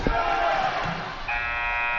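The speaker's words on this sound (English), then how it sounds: "Put back up at the buzzer by Elijah Boyd, no good." A long electronic buzzer blares over a noisy crowd in a gym during a basketball game, with the tone rising and holding steady toward the end.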